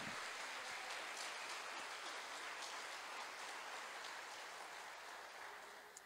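Church congregation applauding during an evening service, a dense, steady wash of clapping from many hands that stays fairly even, then tapers slightly near the end; distant and rather faint.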